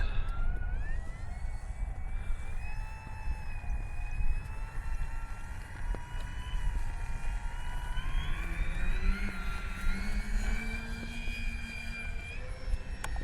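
E-flite Beechcraft D18 RC warbird gradually throttling up for takeoff with flaps set, a rising twin-engine electric whine that climbs steadily in pitch and stays loud and continuous throughout, with no talking.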